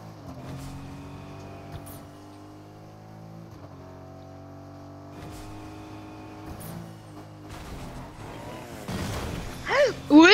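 Car engine in the Fortnite video game, a steady low idle hum with tonal harmonics that rises into revving bursts near the end, with faint game effects and occasional voices.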